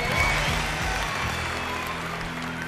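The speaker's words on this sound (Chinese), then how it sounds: "大家现在以热烈的掌声欢迎" Applause from a studio audience at a Chinese dating show greets a woman walking onto the stage, a steady, dense clapping that fills the clip from start to finish.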